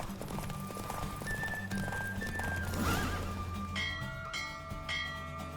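A horse gallops with rhythmic hoofbeats and neighs during a race in The Witcher 3: Wild Hunt, close and continuous, with game music tones and chimes layered over it.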